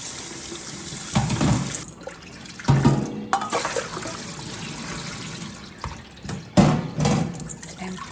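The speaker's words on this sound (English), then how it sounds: "I gave the chicken feet a really good wash in cold water, and then I drained them off." Chicken feet being washed under cold running water from a tap, with bursts of splashing and trickling that swell and fade over several seconds in a kitchen sink.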